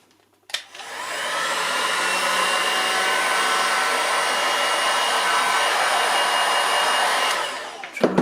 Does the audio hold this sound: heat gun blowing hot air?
yes